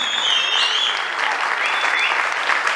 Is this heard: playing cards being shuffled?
no